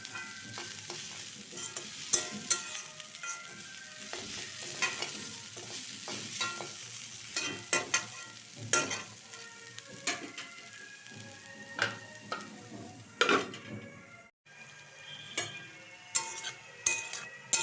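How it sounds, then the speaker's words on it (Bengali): Potatoes fry in a pan for chicken curry, with a soft continuous sizzle broken by frequent scraping and clinking strokes as the pieces are stirred. "লো টু মিডিয়াম আছে আমি আলুটা ভাজবো।"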